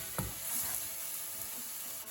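Garlic sautéing in a pan, a soft, fairly faint sizzle with a brief clatter near the start and light stirring throughout.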